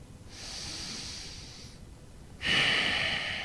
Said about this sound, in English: Try to slow down your breathing, slow and controlled, in and out of your nose.